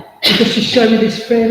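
A single sharp sneeze bursts out close by, followed immediately by a person talking.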